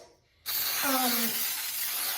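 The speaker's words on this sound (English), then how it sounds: "you could use non-stick like baking spray" A can of non-stick baking spray lets out a single sudden, steady hiss that starts abruptly and holds close and loud to the end, with a faint clatter mixed in.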